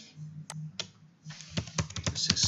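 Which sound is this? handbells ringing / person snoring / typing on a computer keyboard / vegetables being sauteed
typing on a computer keyboard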